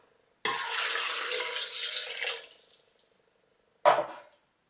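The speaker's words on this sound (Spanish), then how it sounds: "Echamos los 300 gramos de uva y 300 mililitros de agua." Water is poured onto 300 grams of grapes for a homemade drink, a steady splashing pour for about two seconds that thins to a trickle, then a short second splash.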